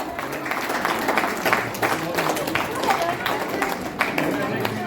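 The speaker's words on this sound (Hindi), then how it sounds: "और मैं सभा सदन से निवेदन करूंगा ताली जरूर बजाएं।" An audience at an award ceremony honouring couples applauds, dense steady clapping from a crowd filling the whole stretch, with a voice speaking faintly beneath it.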